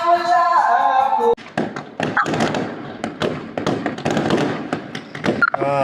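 Fireworks go off at New Year in Europe, a dense run of sharp bangs, crackles and thumps at varying distances, following a short stretch of music and continuing for several seconds.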